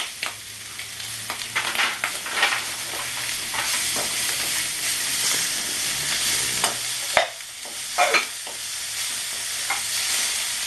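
Fish frying in hot oil with cumin paste added, a steady close sizzle broken by scraping stirs and occasional sharp spatters, with no voices.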